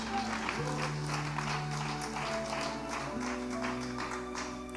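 A church congregation claps for the King during a worship service, a diffuse steady spatter of hands under sustained organ or keyboard chords, fairly faint and distant.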